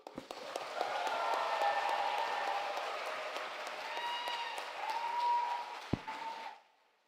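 A debate audience at a world championship open final breaks into a full round of applause, a dense wash of many hands that swells, holds for several seconds, then tapers off sharply, with a few distinct louder claps near the end.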